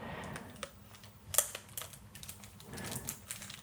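A plastic wrapper being peeled off a Yu-Gi-Oh Cyber Strike structure deck: quiet, close crackles and sharp crinkling ticks come in scattered bursts over a soft background.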